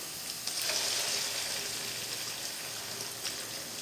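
Sardine sisig with cooked onion and garlic sizzles steadily in a pan, a close, even frying hiss that holds at the same level throughout.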